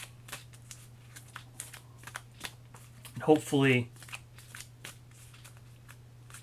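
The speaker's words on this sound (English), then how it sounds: "So I'm going to shuffle up the settlement events." A deck of Kingdom Death Monster settlement event cards is shuffled in one brief riffling burst in the middle, close and clear, with a person talking around it.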